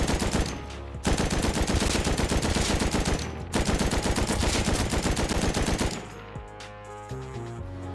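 Sustained AK rifle fire in the console version of Rust, two long loud automatic bursts separated by a brief pause, then quieter scattered game sounds and a faint tone pattern at the end.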